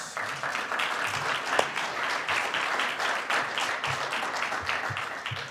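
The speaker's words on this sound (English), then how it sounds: "So why don't we give them a round of applause?" A crowd applauds students at a public service journalism session, dense clapping from many hands filling the room for several seconds.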